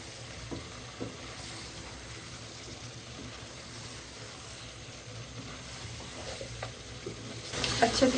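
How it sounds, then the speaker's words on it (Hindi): Cauliflower frying and being stirred in a pan for gobi gosht, a low steady sizzle with faint scraping stirs and occasional soft knocks, growing a little louder near the end. "गोभी को भी हम अच्छे तरीके से भूनेंगे।"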